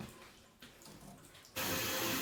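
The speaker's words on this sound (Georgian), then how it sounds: "წყალი წამოვიდა." Water suddenly gushing from a pipe in a cellar, a steady low hiss that swells into a loud, full rushing flow in the final moments.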